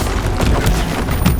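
Bombarda blasting spell exploding in Hogwarts Legacy, a loud, dense boom filling the whole moment with rumbling low-end crash.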